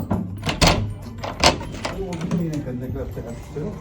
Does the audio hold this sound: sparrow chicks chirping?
no